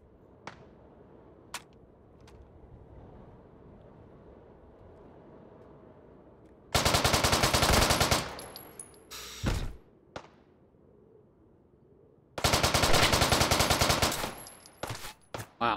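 Bursts of rapid automatic gunfire ring out in the Hot Dogs, Horseshoes & Hand Grenades shooter, two long sustained volleys with scattered single shots and thuds between them over a quiet background.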